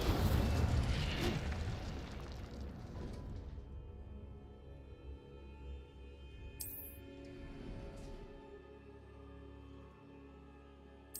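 An Incendio fire spell is cast in Hogwarts Legacy: a loud, rumbling fiery burst opens and slowly fades over several seconds, followed by a couple of sharp, bright glinting effects as the roar dies away.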